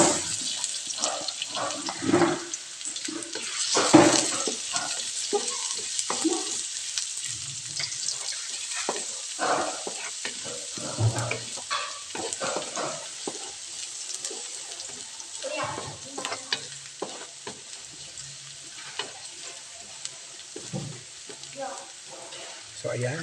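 Ginger and garlic sizzle and crackle in a hot pan as they are sautéed for a mixed vegetable dish with coconut milk and jackfruit. There are stirring scrapes and soft clatter, moderately close, with a voice speaking intermittently over the frying.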